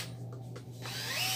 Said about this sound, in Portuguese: Vai parafusar dois parafusos na ponta aqui de novo.